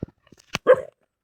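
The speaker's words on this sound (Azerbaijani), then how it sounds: "İtin səsi yaxından gəlir" A dog barks once nearby, a single short, sharp bark preceded by a few faint clicks and knocks, then quiet.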